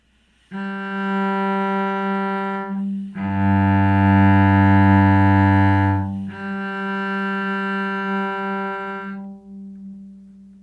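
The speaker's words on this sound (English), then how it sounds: "also we can check it with a lower string, because the distance will be an octave" Sustained bowed cello tones, three long notes in sequence with the middle one lower and richer, an octave on a lower string, played alone with steady loudness.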